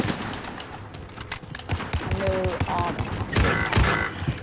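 Scattered gunfire crackles in Call of Duty: Modern Warfare, with shotgun blasts and rapid shots at moderate distance, irregular and mixed with game clatter and a few tonal effects.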